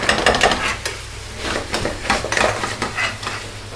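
Sliced onions fry over medium heat for a duck pathia curry, a steady close sizzle broken by bursts of stirring and utensil scrapes, over a low hum.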